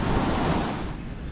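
Water of Poe Creek rushes steadily through a carved canyon at Poe Valley State Park, a broad, continuous roar heard up close with no talking.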